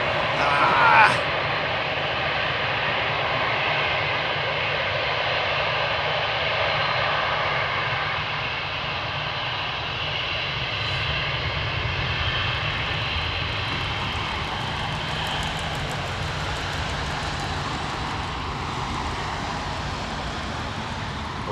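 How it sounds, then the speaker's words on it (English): An MD-83 jet airliner takes off at the far end of the field at Anchorage, a broad, steady engine roar that holds for the whole stretch and swells slightly in the hiss later on. "the MD-83's going up the other end"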